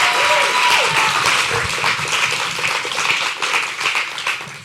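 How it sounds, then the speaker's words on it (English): Audience applause after a community talk, loud sustained clapping from a crowd that slowly tapers off. "That was not enough applause"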